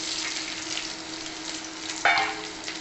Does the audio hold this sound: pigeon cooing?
no